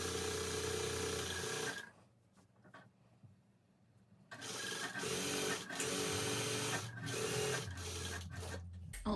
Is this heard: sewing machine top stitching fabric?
yes